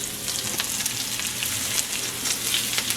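Steady close sizzling of rice frying in oil in a pan, a dense crackling hiss with small pops throughout, loud and without talk.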